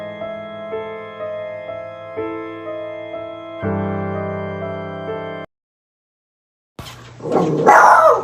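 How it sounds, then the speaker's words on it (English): Near the end a dog barks loudly and close by. Before it comes a stretch of steady tonal music, then a short silence. "Don't mind my dog."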